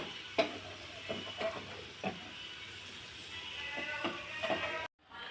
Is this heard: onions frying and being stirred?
yes